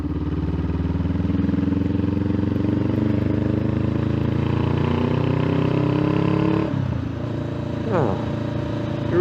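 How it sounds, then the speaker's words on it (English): Parallel-twin motorcycle exhaust rumbling steadily at a constant throttle, a loud, close, droning note that shifts slightly before the engine eases off and revs briefly near the end. "You really do just gotta love the sound of the exhaust on this bike, or anything with the twin parallel"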